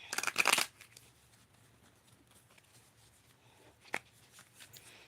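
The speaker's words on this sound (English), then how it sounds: "Let me shuffle" Tarot cards being shuffled by hand, a crisp riffling burst at the start, then quiet handling with a single sharp card snap later, close and intimate with no talking.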